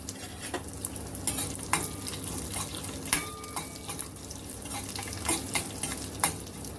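Sesame seeds and curry leaves frying in hot oil, stirred in a pan for bitter gourd chutney: a constant close sizzle with crisp scraping strokes and light crackles throughout.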